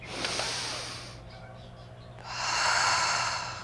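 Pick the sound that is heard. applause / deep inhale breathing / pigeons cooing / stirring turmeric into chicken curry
deep inhale breathing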